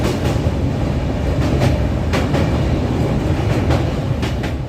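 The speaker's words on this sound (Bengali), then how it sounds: "একদম কারেক্ট টাইমেই ট্রেনটি ছেড়ে দিল" Darjeeling Mail train running out of Sealdah at night, a loud steady rumble from inside the carriage with rhythmic clickety-clack of wheels over rail joints.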